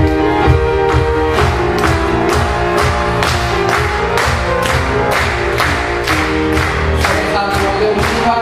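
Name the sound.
congregation clapping along to a hymn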